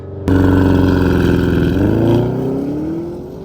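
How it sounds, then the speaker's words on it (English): A 2024 Porsche Cayenne Turbo GT in Sport Plus mode holds a loud, steady high rev on launch control, then the engine note bends and climbs as the SUV pulls away, close and strong with no talking. "Launch control, revving up."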